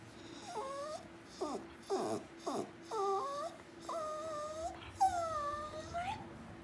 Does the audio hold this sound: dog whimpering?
yes